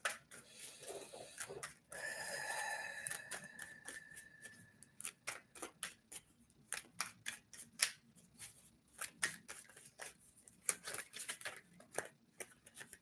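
Tarot cards are shuffled by hand, giving a long run of crisp, rapid flicks and riffling clicks, close and fairly faint, with short pauses between bursts.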